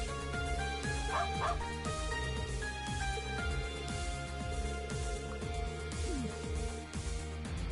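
A dog in the video game Trails of Cold Steel IV, strapped to a parachute aboard an airship, gives repeated short barks and yips under continuous game music.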